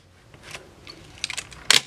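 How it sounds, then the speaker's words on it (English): Mamiya ZE 35mm film camera shutter snapping, a few soft mechanical clicks and a film-advance ratchet, ending in one sharper, louder snap near the end, close up and alone. "Then just snap the shutter."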